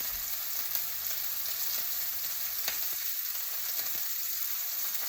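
Food frying in a pan on an electric stove, a steady close sizzle with faint pops and crackles throughout.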